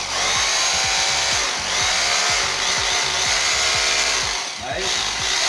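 A Bosch GBH 2-26 DRE rotary hammer drill runs in hammer mode, loud and close, with a continuous motor whine over fast, rhythmic hammering thuds that continue without a break.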